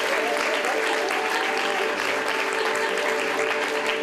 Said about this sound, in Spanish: Un fuerte aplauso para nuestro equilibrista, el señor Mariano Rajoy